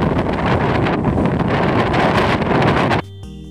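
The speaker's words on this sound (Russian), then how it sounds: "Ветер крепчал, облака наседали." Strong mountain wind on Mont Blanc roars and buffets the microphone in a dense, continuous rush, cutting off abruptly near the end.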